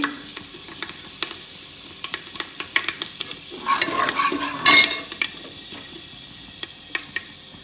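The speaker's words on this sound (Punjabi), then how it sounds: "ਦੇਸੀ ਮੇਥੇ ਇਹਨਾਂ ਨੂੰ ਆਪਾਂ ਇਹਨਾਂ ਨੂੰ ਥੋੜਾ ਜਿਹਾ ਟਾਈਮ ਲੱਗੂਗਾ ਭੁੰਨਣ ਨੂੰ" Desi fenugreek seeds roast in hot oil for kadhi, giving a low sizzle with scattered sharp ticks and spoon taps, and a brief louder burst of crackling midway; no talk.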